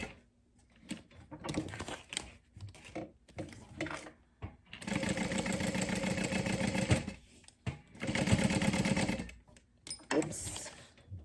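A sewing machine bastes around the border of a fabric key pouch. It runs in bursts of rapid needle clatter separated by pauses with handling noises, and a voice talks briefly in the gaps.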